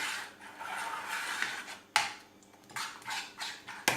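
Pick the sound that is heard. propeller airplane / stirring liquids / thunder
stirring liquids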